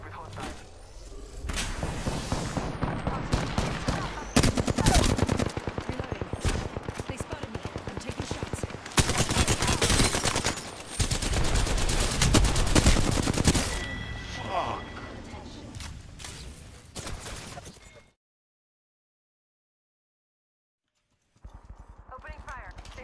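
Repeated bursts of automatic gunfire crackle in Apex Legends, loud and rapid in several volleys with brief pauses, a voice talking over parts of it before a sudden drop to silence near the end.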